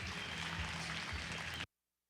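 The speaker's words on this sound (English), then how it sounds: "give them a nice round of applause once again" An audience claps at a junior market barrow hog show ring. The applause is steady, dense and fairly faint, then stops abruptly into silence.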